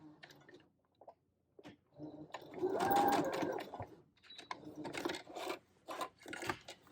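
A sewing machine runs a short stitch and back tack on fabric, close and quiet, with whirring bursts separated by brief stops.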